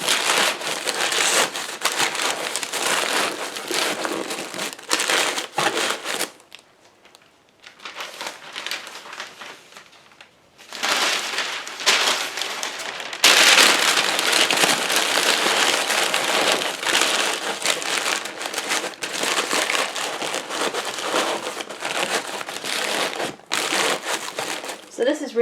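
Packing paper crumpled and pressed around the sides of a shipping box, a dense crinkling rustle running almost the whole time with a brief quieter lull, up close and under intermittent talking.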